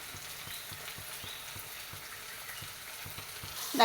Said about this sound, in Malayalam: അതിലോട്ട് നമുക്ക് മീനൊന്ന് ഫ്രൈ ചെയ്യാൻ വെച്ച് കൊടുക്കാം